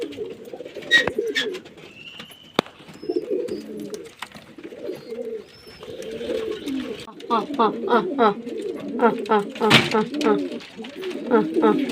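Several pigeons coo in low, rolling calls close by, repeating steadily with a few soft flutters and clicks in the background.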